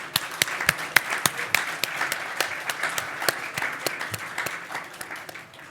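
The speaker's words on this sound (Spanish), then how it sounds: "Así que un aplauso por todo este espacio." An audience at a regional education panel in Latin America applauds after the session, with a steady patter of many hands and sharper individual claps standing out, at moderate volume and not too close.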